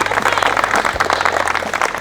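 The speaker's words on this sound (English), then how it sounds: "I just want to give a round of applause" A crowd applauds at a car show season opener, with dense, steady clapping that stays loud for the whole stretch, with some voices mixed in.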